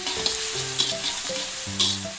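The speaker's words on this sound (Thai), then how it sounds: "ผัดให้กระเทียมกับพริกหอมขึ้นมาเลยนะครับ" Garlic and chili stir-frying in vegetable oil in a wok, a dense continuous sizzle with occasional spatula clinks and scrapes, loud and close, with a faint musical tone underneath and no talking.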